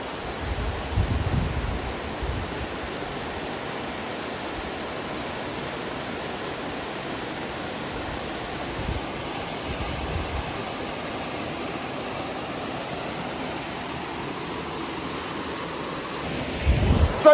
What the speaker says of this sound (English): So yes, what we saw is the waterfall.